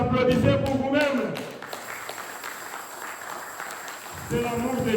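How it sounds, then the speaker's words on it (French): A church congregation bursts into applause right after a preacher's voice, the clapping dense at first, then thinning into a scattered patter before speech resumes at the end. "Applaudissez pour vous-même."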